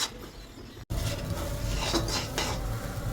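Thick carrot halwa is stirred in a pan, with a spoon scraping and clattering against the metal in close, continuous strokes after a brief pause.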